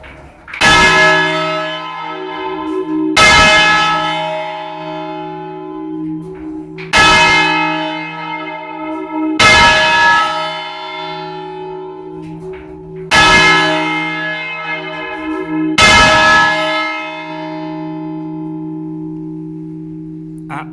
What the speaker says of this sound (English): it's no coincidence that the church's largest bell has been left in the upright position.